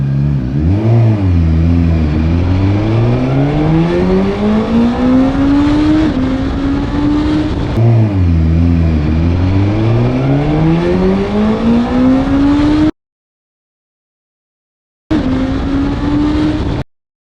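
A Suzuki GSX-S1000GT motorcycle revs hard on a 0-60 run, its engine climbing in pitch through several rising sweeps with gear changes, loud and close, then cutting to silence before a brief final burst.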